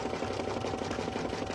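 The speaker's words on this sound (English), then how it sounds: "now we're gonna tack down that centerpiece vinyl for our first applique piece." An embroidery machine tacks down a vinyl applique centerpiece, giving a brief, steady burst of rapid mechanical stitching with a low motor hum, close by and with no talk.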